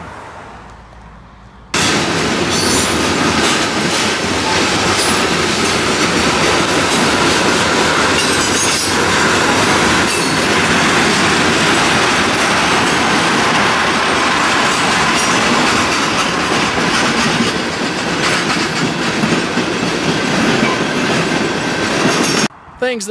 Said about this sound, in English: There's a train hauling all these, these armored vehicles.